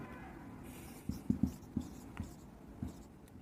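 A marker or chalk taps and strokes on a board while writing a number, giving about half a dozen short, soft knocks and scratches at an uneven pace against a quiet room.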